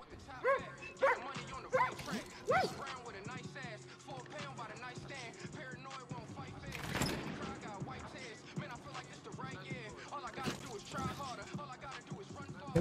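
A frightened dog in the video game Far Cry New Dawn barking and whimpering, a series of yips and barks early on giving way to whines and whimpers, close and clear under continuous game sound and talking.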